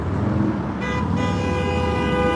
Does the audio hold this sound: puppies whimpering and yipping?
no